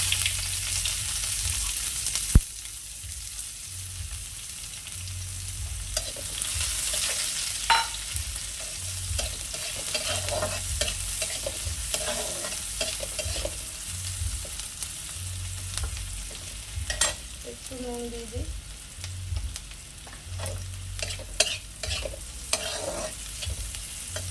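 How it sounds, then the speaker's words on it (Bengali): Chopped onions fry in a pan with a steady sizzle, while a utensil repeatedly scrapes and stirs through them over a long stretch. "আচ্ছা এবার দিয়ে দেবো পেঁয়াজ কুচোনাটা"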